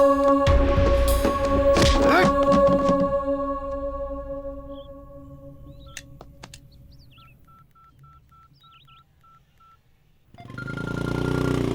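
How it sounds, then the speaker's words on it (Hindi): Telephone dialing tones from a dubbed South Indian film scene, heard after a loud burst of dramatic sound: a few short beeps, then a string of evenly spaced tones, followed by another loud swell. "अभी मैं उसे फोन करता हूँ।"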